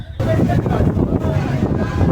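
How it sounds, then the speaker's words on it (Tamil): Strong cyclone wind buffets the microphone on the coastal road near Kovalam beach, Chennai, a loud low roaring rumble that gusts and surges continuously after an abrupt onset. "காற்று ஹெவியாக ஆயிடுச்சுங்க"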